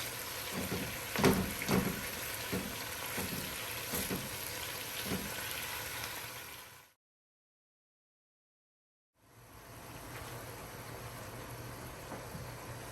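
Pieces of birria meat fry in a pan, a moderate close sizzle with a few thumps as they are flipped, then a brief total silence before the steady frying resumes; no talking.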